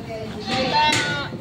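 Goats bleat at a livestock auction market in Lucena, a short burst of overlapping near calls from a crowded pen, with voices talking in the background.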